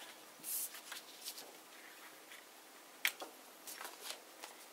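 Scissors snip off paper corners in a series of faint, crisp cuts close by, a few short clips spaced irregularly with light rustling of paper between them.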